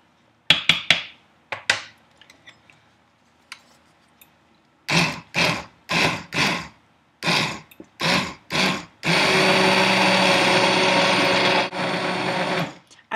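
A blender purees black bean soup, starting with a series of short pulsed bursts separated by pauses, then running continuously and loudly for several seconds before easing off.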